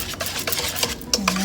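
Almond flour crepe batter stirred in a Le Creuset pan, a quick scraping, swishing utensil rhythm repeating several times, close and fairly loud, with a faint clink of metal against the pot.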